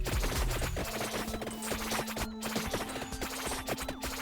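Knife weapon projectiles fire in the video game Vampire Survivors as a dense, rapid stream of sharp ticks and impacts, steady and continuous over a sustained electronic tone.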